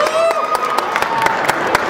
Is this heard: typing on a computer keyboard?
no